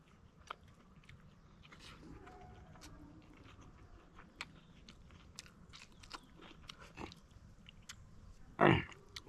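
Chewing and crunching on cooked yam and smoked meat during a spicy outdoor meal in a forest, with close, irregular bites and mouth sounds throughout and a louder crunch near the end.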